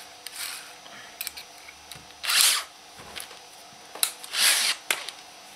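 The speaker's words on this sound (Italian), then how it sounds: "Quindi io gli avvito il bullone, così il taglio viene preciso." A bolt being screwed into a threaded part by hand, heard as quiet clicks and small scraping taps broken up by a few short, louder grinding bursts of metal thread, close and without speech.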